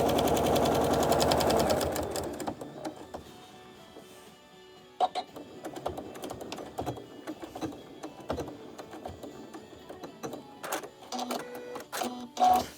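A sewing machine quilting flannel shirt squares into a quilt, loud and steady at first, then dropping to a quieter run of uneven mechanical clicks and knocks that end in a few sharp louder taps, close and with no talk.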